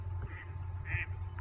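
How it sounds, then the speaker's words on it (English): A duck quacks a couple of times while flying overhead outdoors, faint nasal calls sitting above a steady low hum of background noise. "And a duck's flying overhead."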